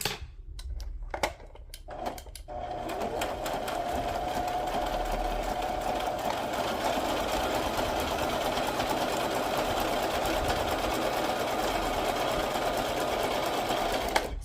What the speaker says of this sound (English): I'm going to sew around my edges.